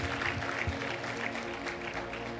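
A church congregation claps hands together in thanks to God, a dense, steady patter of many hands sustained throughout with a faint murmur beneath.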